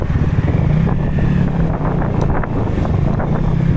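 Strong wind buffets the microphone during a motorbike ride on a rough hill road, a loud, continuous roaring rush close up with no clear voices.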